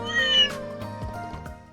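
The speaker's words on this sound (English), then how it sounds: "A cat, that's a witness." A cat meows twice in the video game Trails in the Sky, clear and fairly close over a steady musical background, with no talking.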